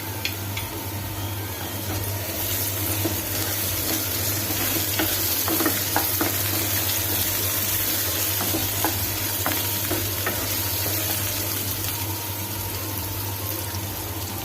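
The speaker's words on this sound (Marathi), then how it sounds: "कांदा थोडासा भाजल्यानंतर ह्याच्यामध्ये मी अद्रक लसूणची पेस्ट घालणार आहे।" Onion sizzling in a pan with ginger garlic paste for Khandeshi-style baingan bharta: a steady, loud frying hiss with scattered crackles and stirring scrapes, close by and continuous, with no talking.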